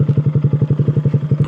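Honda Grom motorcycle fitted with an aftermarket exhaust, idling with a loud, close, steady rapid putter of regular low pulses and a slight clattery edge, no talk.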